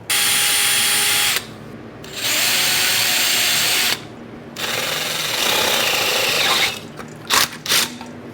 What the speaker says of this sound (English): We're going to drill a hole in this shroud